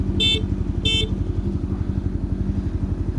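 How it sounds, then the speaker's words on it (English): Car horn honking from a vehicle with a rumbling idling engine, two short, loud, bright beeps close by in the first second, followed by steady engine throb alone. "Why is he honking three times?"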